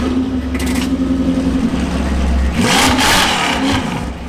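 A Jaguar sports car's four-cylinder engine in Forza Horizon 5 hums steadily, then revs hard with a rising and falling surge, loud and close with no voices.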